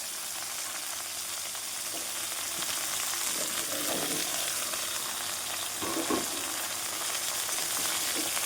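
Water lily stems and pond prawns frying in a pan give a steady, hissing sizzle heard up close, with a couple of soft stirring scrapes partway through and no speech.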